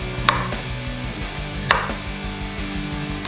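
Knife chopping washed leek into small rings on a board, two sharp distinct cuts about a second and a half apart over a low background hum.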